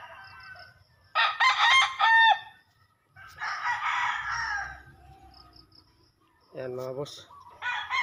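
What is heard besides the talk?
rooster crowing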